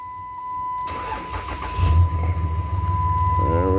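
A 2006 Dodge Ram 3500 Mega Cab with the 5.9 Cummins diesel cranks over after the glow plugs warm, catching quickly and settling into a loud, close, steady diesel rumble with no talk over it.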